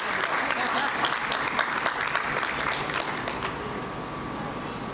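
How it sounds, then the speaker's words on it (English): Audience at a school annual function breaks into a big round of applause, dense, continuous clapping from a large crowd that slowly eases off toward the end. "Once again, give a big round of applause for everyone."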